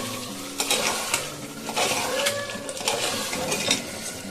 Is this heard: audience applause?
no